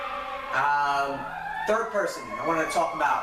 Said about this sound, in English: As I hear sirens in the back